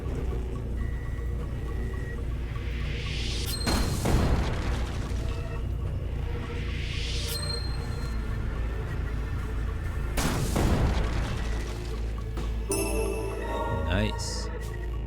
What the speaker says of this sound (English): Okay, it also detonates.